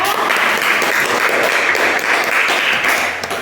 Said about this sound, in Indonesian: Kita beri aplaus untuk kelompok 4.